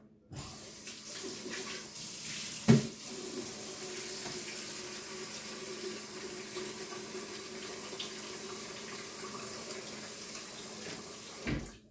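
Running tap water filling a sink to rinse a stick blender during soap making, a steady, fairly quiet stream lasting several seconds, with a brief knock near the start.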